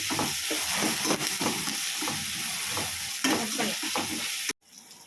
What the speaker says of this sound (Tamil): அதை நல்லா வதக்கிறோம்.